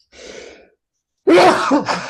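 Two quick sneezes in a row from a person, the first softer and breathy, the second sharp and loud with a trailing burst, separated by a brief silence.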